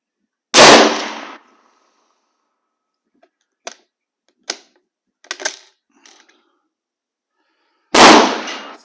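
Two loud, sharp rifle shots from an M-96 Swedish Mauser firing handloaded ammunition, one near the start and one near the end, with a few faint clicks of the bolt being worked in between.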